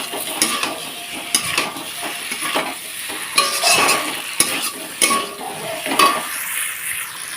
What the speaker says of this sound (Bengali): আবারও একটু আলু দিয়ে ভালোভাবে কষিয়ে নিচ্ছে